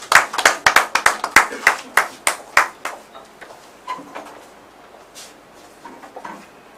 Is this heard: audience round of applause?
yes